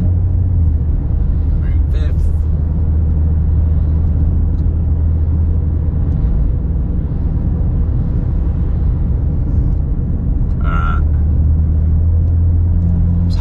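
A BMW with a DCT transmission swap and single mass flywheel accelerating, a steady loud engine drone with low rumble heard from inside the car, someone talking over it throughout.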